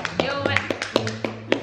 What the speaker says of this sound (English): I'll just clap right now